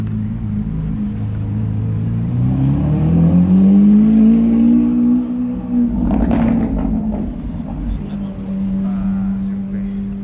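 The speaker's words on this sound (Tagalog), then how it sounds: "Oh my God, Ferrari." A Ferrari engine revving up in a rising, rumbling roar that peaks and settles into a steady idle, with voices chattering over the end.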